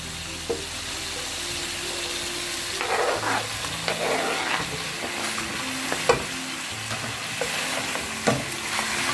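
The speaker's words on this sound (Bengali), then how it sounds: "আমি এখন আলু দেব, বিরিয়ানিতে আলু দেব, তার জন্য আলুটা আমি মাংসের মধ্যে দিয়ে দিচ্ছি।" Beef and potatoes for biryani fry together in a pot, a steady sizzle broken by repeated scrapes and clacks of a spoon stirring the chunks, close and alone with no talk.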